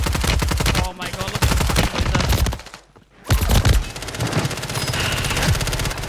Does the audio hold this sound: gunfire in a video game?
yes